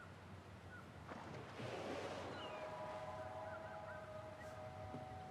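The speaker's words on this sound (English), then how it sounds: "Like waterfall though." A waterfall in the video game Tell Me Why, a steady broad rush of falling water heard at a moderate distance with faint tonal game sounds over it and no talk.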